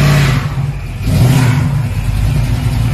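A Chevy donk sitting on 34-inch rims, fitted with an LS-family V8, revs loudly and close by. The engine note rises, dips briefly, then surges again and holds steady with no voices.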